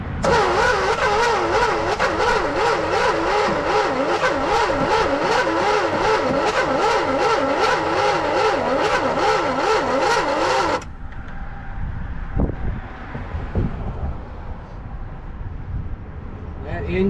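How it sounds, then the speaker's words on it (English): A 1966 Dodge Dart engine, parked for 25 years, cranks slowly with a loud, steady rhythmic starter whir for about ten seconds, then stops, leaving faint clanks and background noise. "That engine is not turning very fast."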